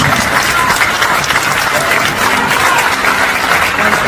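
Sustained applause from an audience at a political campaign speech event, steady and dense throughout with no pauses, loud and fairly close.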